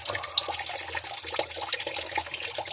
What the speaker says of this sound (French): C'est l'eau qui est encore dans les tuyaux, donc c'est normal